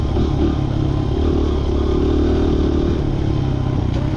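A motorcycle rides along steadily, its mid-pitched engine droning loud and close with constant wind roar, without speech.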